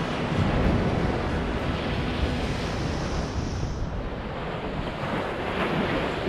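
Foamy sea waves roll onto the beach at Catania on a warm Christmas Eve, a continuous broad surf roar mixed with gusting wind buffeting the microphone.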